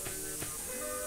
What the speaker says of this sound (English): You probably can hear the leak in the background.